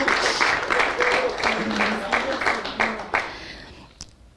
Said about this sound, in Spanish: ¿Cuántos pueden darle unas palmas al Rey?